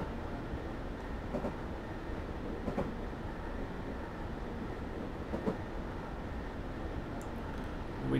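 Class 321 electric train running in Train Simulator between Shenfield and Braintree, a steady rumbling cab drone with faint periodic clicks and knocks, continuous and alone without talk.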